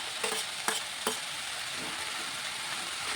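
Amaranth leaf curry with fresh tomato is stirred in a hot pan, three quick scraping strokes over a continuous bright sizzle, no voices present.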